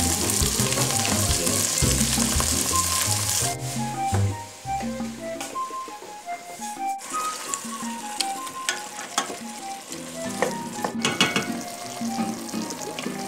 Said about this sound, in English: now that the onion is nice and golden, we start pouring the meat in there